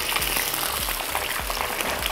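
Steady, dense sizzling of battered chicken deep frying in hot oil for Korean fried chicken, with faint low thumps and bubbling bursts throughout.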